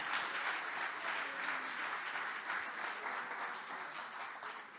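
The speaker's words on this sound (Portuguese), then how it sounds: "pode aplaudir o Senhor" A church congregation applauds during a sermon, a dense wash of many hands clapping continuously, steady and moderately distant, with no clear voices over it.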